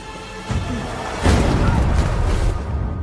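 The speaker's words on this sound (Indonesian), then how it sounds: "Ben berhasil untuk meledakkan terowongan tersebut" A tunnel blows up in a film scene, a deep rumbling boom that swells and holds as a heavy, roaring low-end blast for a couple of seconds before easing slightly.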